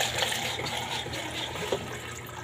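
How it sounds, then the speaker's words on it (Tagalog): Water is poured into a bowl of hot cake batter, giving a close, steady splashing pour that lasts the whole moment with no talking. "Lagyan natin siya ng tubig."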